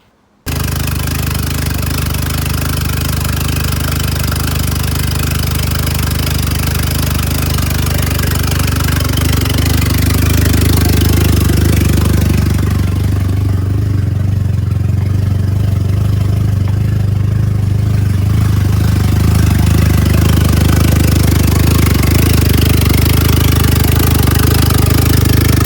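A rebuilt Honda D16A1 engine runs steadily at idle on its own, a continuous close, loud low rumble with light clatter, its tone deepening slightly partway through with no one speaking.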